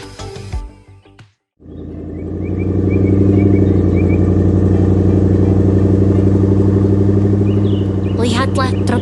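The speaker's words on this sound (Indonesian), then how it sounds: "Lihatlah truk pickup itu." A pickup truck engine in a 3D construction cartoon set in a mountain snow village, a steady loud rumble that starts after a short pause, with a voice speaking near the end.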